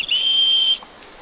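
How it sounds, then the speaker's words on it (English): A sharp, piercing whistle blown once on a wooded backcountry hike, a steady loud tone held for under a second and then cut off, close and alone. "we all got our whistles, right?"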